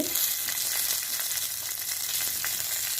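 Peanuts fry with spices in a hot pan for a South Indian chutney, giving a steady, loud, close sizzle with light stirring and no talking.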